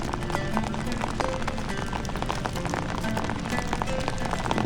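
Heavy storm rain pours steadily and loudly on an outdoor fishing spot in the Amazon, a dense unbroken hiss with scattered drop impacts and no pauses.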